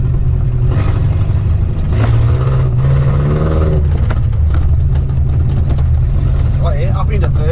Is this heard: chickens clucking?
no